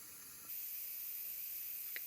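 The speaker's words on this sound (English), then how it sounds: "we have a steady stream of steam coming out, which is what I'm showing here" A steady, even hiss of steam escapes from a Nesco smart canner, starting abruptly and then holding constant with no voices, plus a faint brief tick near the end.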